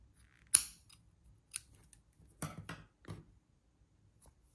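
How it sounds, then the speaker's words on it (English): Scissors snip through crochet yarn after a tightened magic ring on a teddy bear ear, a single sharp close cut followed by a few softer handling rustles, with no talking. "Then you can just cut your yarn."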